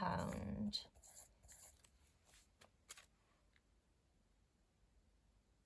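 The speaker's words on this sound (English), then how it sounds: "I'm just going to quickly write the totals on the side here" A pencil scratches quick totals onto paper cash envelopes in short strokes, close and fairly quiet, after a brief rustle of handling at the start.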